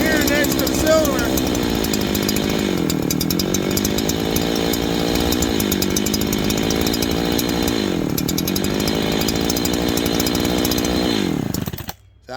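A chainsaw engine, suspected of an air leak at a failed base gasket, runs steadily at a loud, rough, buzzing idle with slight rises and dips in pitch, then cuts off abruptly near the end.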